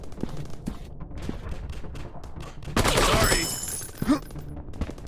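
In the PUBG shooter game, bursts of rapid gunfire crack out, with one dense volley in the middle and scattered shots around it, under a player's voice.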